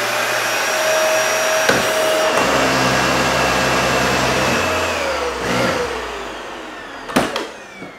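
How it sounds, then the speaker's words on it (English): A loud Dyson Ball Total Clean vacuum cleaner runs steadily with a whining motor tone that shifts in pitch, with a few clunks and bumps along the way. "Although this vacuum cleaner is incredibly powerful in terms of suction, it is also incredibly loud"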